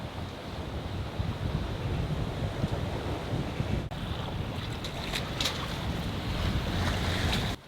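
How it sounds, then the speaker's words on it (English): Sea waves rush and break around a sailboat under sail in rough water, with heavy wind buffeting the microphone in a constant loud roar and a few sharper splashes near the end. "Oh, the seas are becoming pretty big actually."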